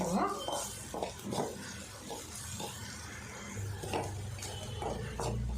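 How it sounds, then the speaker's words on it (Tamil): Onions sautéed with sambar powder on a low flame for tomato sambar, giving soft stirring, scraping and light utensil clinks on a pan throughout, with faint sizzle and a voice talking over it. "அது சேர்த்துட்டு லோ ஃப்ளேமில் ஆறு நிமிஷம் வதக்கி"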